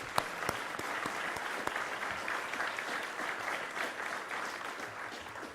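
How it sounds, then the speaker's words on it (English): Steady applause from a seated group at a monthly board meeting, moderately faint and evenly sustained for several seconds with a few sharper individual claps standing out. "So please give these 4 guys a round of applause for their service"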